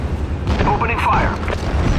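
Units opening fire in the real-time strategy game Act of War: Direct Action, with dull booming blasts under a radio-style voice line and steady battle rumble, loud and close.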